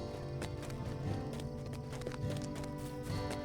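Hooves of a horse clip-clopping along at a walking pace in the online game Lord of the Rings Online, a quiet rhythmic patter over soft background music.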